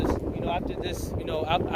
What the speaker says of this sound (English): I know because it's so windy